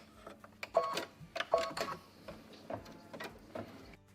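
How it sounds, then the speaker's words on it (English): Embroidery machine stitching a quarter-inch seam through two pieces of quilting fabric placed right sides together, heard close up as a quiet run of irregular mechanical clicks and whirring bursts, with no talking. "now it's going to stitch the perfect 1/4 inch"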